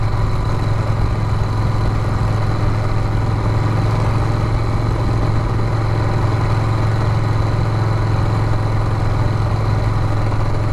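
Harley-Davidson Sportster project motorcycle engine running at low RPM, a steady, loud, close low-pitched drone that holds evenly throughout with no voices.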